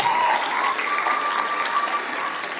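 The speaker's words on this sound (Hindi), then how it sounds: "तो जोरदार तालियां बजा सकते हैं" An audience at a motivational talk claps in dense, crackling applause that starts strong and tapers slightly as it continues, with no speech over it.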